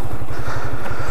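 A Honda Hornet motorcycle engine runs close and loud, with a rapid throbbing putter that holds steady through the short stretch.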